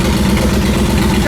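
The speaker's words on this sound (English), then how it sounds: "Bike does fire up right away, though." A Honda VTX 1800 motorcycle fitted with aftermarket exhaust pipes idles steadily, loud and close, with a deep, throbbing low rumble that holds even through the short stretch.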